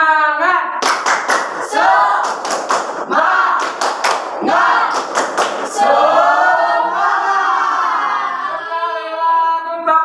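A class of elementary students does a rhythmic spirit clap, bursts of sharp unison hand claps in a patterned beat mixed with children's chanting voices, close and lively in a classroom.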